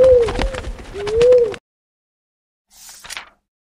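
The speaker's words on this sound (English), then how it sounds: "The bird flies in the sky." A bird in a children's story gives two smooth cooing calls close up, followed by a pause and then a faint, brief flutter.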